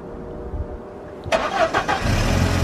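A used car's engine cranks briefly and catches, settling into a steady, loud idle close by, with a little background noise beforehand and no talking.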